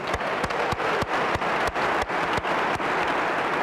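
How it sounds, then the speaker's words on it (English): A room full of scholars at a summer jobs program kick-off applauds together in one steady round of clapping that holds at an even level for a few seconds, with no voices over it. "Give yourselves a round of applause"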